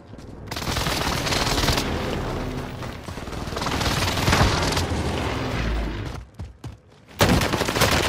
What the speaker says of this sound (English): Vector set for airstrike.